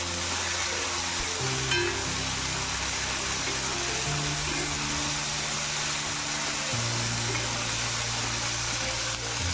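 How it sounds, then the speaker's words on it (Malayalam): Green peas for a samosa filling fry and get stirred in a pan, giving a loud, dense, continuous sizzle with a faint hum underneath and no voices. "ഇതിലേക്ക് ഗ്രീൻ പീസ് ഇട്ട് കൊടുക്കാം. നന്നായി ഒന്ന് ഇളക്കി കൊടുക്കാം."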